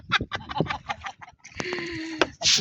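Chickens cluck and squawk in short bursts nearby, with a drawn-out call near the end and some scratching noises in between.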